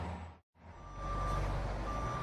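A truck at the Port of Los Angeles drives off with its reversing beeper sounding a steady high tone, the diesel engine rumbling loudly and building after a brief moment of silence.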